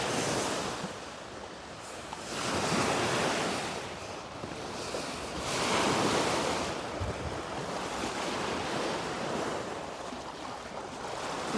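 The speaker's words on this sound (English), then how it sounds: "the waves are basically enveloping them and you actually see the splashes come up a lot" Ocean waves wash in and break on a beach at sunrise, swelling in slow surges every few seconds over a constant hiss of surf and light wind buffeting the microphone, with no voices.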